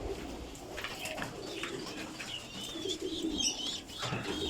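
Pairs of pigeons in a loft coo in soft, rolling bursts with a few chirps and a brief flutter of wings, close by and otherwise quiet.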